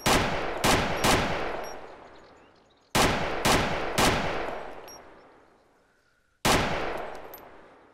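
Gunfire in ArmA 2 DayZ: three quick loud shots, then a pause and three more, then a single shot, each cracking sharply and ringing out in a long fading echo, with no talking.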